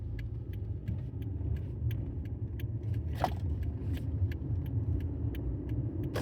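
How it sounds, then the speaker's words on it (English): Steady low rumble and road vibration inside a moving car, with a faint rattle ticking at a regular beat and one brief louder sweep midway, with no talking. "This car is vibrating really weird."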